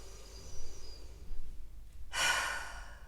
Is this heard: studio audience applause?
no